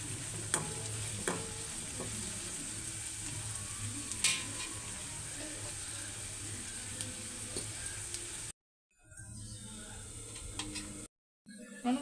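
Punjabi-style okra masala frying in a pan, a steady soft sizzle with occasional spoon scrapes and small ticks, fairly quiet and continuous before dropping out briefly twice.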